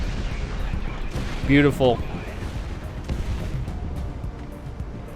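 Aircraft guns and missiles firing in the Project Wingman combat flight game, a continuous rumbling barrage with booming bursts under a brief spoken remark.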